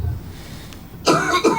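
A few harsh coughs break out near the end, loud and close, after a stretch of quiet room noise.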